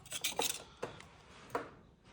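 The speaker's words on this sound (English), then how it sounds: "just thought I'd film how satisfying it is to scrape all of this" A metal scraper rasps crud, dirt and oil off the transmission of an XE Ford Falcon, giving a few short, gritty scrapes at close range with quiet gaps between them.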